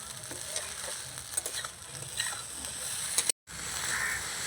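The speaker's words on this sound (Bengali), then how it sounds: "এই দেখুন আমি যে নাড়াচাড়া করছি এক ফোটাও কিন্তু ভাতগুলো ভাঙেনি" Leftover rice frying in a pan for egg fried rice is stirred, giving a continuous hiss with light scraping clicks, quiet and close, broken by a brief gap near the end.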